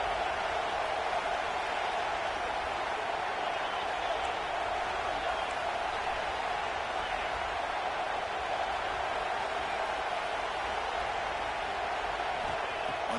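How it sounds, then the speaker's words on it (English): Continuous roar from a football stadium crowd at an Oregon vs LSU game, loud and steady throughout as fans make noise to urge the defense toward a red zone stop. "And here comes the noise. This crowd is trying to inspire this defense to make a big red zone stop."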